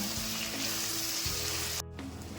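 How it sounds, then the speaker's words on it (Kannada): Onions sizzle steadily in hot oil, a continuous close crackling hiss with faint clinks from the pan. "ಈರುಳ್ಳಿ ಸ್ವಲ್ಪ ಒಗ್ಗರಣೆ ಬಾಟ್ಕೊಂಡ್ಬಿಡೋಣ"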